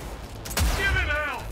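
Gunfire in Cyberpunk 2077, a single loud close burst of shots followed by a ringing mechanical tail, alongside game voices shouting.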